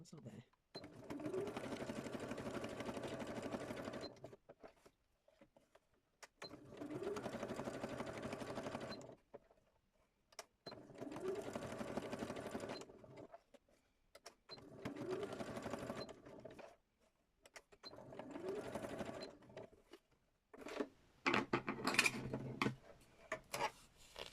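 Sewing machine stitching in five running bursts of a few seconds each, separated by short pauses, fairly close and steady in a craft workshop, with a louder clattering stretch near the end.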